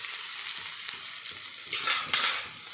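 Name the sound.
ivy gourds (dondakaya) frying in a pan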